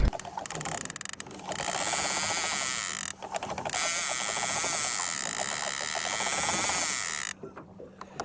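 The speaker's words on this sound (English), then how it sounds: "Tighten the drag up on that thing." A fishing reel's drag being tightened while kokanee fishing in snowy weather, giving loud rapid ratcheting clicks in long buzzing bursts with brief pauses between them, up close.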